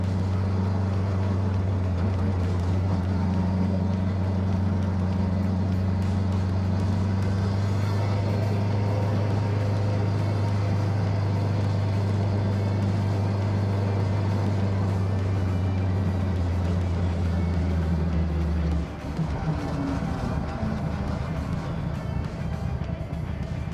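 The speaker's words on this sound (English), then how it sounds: "Sounds so harsh with the solid mounted engine." A superbike engine solid-mounted in a Peugeot 106 drones in a harsh, steady idle, loud and close for most of the clip, then its pitch and character shift abruptly near the end.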